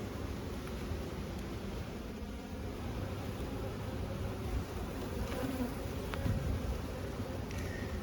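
Honey bees at an open beehive hum in a dense, continuous buzz, close and steady throughout with no talk.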